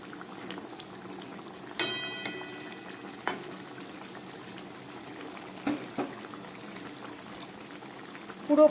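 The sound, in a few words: tengra fish curry boiling in a pan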